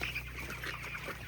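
Chickens cluck faintly in a coop in one short, quiet burst of soft fowl calls.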